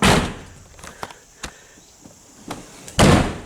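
Doors on a 2000 Ford F150 4x4 four-door pickup, including rear suicide doors, opening and shutting in a series of separate clunks and thuds, ending in one loud, close slam with no talking.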